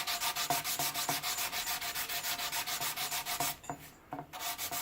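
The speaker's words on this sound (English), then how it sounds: "Just focusing on sanding the putty itself, right?" Rhythmic scratchy rubbing of sandpaper by hand on putty on a skateboard, quick regular back-and-forth strokes, close up, pausing briefly near the end before resuming.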